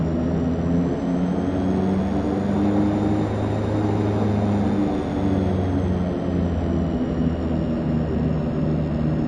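DHC-6 Twin Otter taxiing in a flight simulator, a steady twin-turboprop drone with a low hum and faint high whine, continuous and even throughout with no talk.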